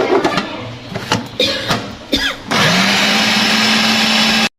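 An electric chopper grinds a chicken and lentil shami kabab mix with a loud, steady whir that starts abruptly and runs for about two seconds, after some softer knocks and clatter.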